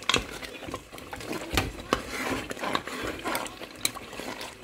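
Rich Nigerian Sunday stew is stirred as it fries in a pot, with scraping, clinking spoon strokes against the pot over a soft sizzle, irregular and close, no talking.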